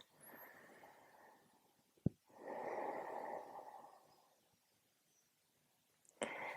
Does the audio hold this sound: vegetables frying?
no